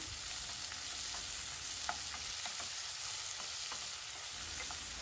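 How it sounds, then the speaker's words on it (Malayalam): Chopped ginger, garlic, green chillies and curry leaves fry in a pan for green tomato chutney, a steady close sizzle with soft, irregular stirring taps, no voices. "അതിനുശേഷം ഒരു ചെറിയ കഷ്ണ ഇഞ്ചി ചെറുതാക്കി മുറിച്ചിട്ട് ചേർക്കാം എട്ടല്ലി വെളുത്തുള്ളിയും ചേർക്കാം മൂന്ന് പച്ചമുളക് ചേർക്കാം കുറച്ച് കറിവേപ്പിലയും ഇട്ടിട്ട് ഒന്നുകൂടി ഇളക്കി കൊടുക്കാം"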